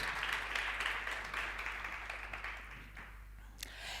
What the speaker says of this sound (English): Can we give her a round of applause as she makes her way to the stage?